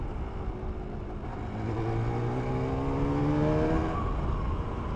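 A 1988 Yamaha TDR 240 two-stroke motorcycle engine revs up in rising, buzzy sweeps, climbing higher in pitch over several seconds above a steady background rumble.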